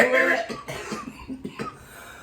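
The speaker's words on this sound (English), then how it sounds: "I'm just here to cough over you." A few rough, throaty coughs in quick succession, close and fairly loud, with no talking.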